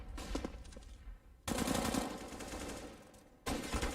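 Automatic gunfire in Counter-Strike: Global Offensive during a competitive match, with rapid bursts of shots that break off and resume, fairly loud and close, with no voices.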